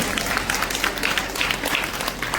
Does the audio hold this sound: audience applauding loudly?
yes